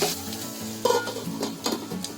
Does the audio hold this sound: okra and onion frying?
yes